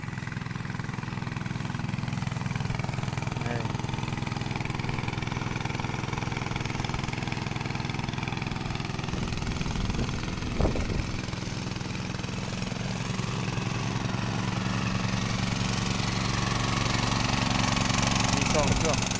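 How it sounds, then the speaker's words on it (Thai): Two water pump engines drawing water from a pond, making a continuous mid-pitched idling chug that stays steady and close throughout, with people talking now and then over the drone. "ไปเบิ่งเขาดูดน้ำนองมีจักร2 เครื่องเนาะ"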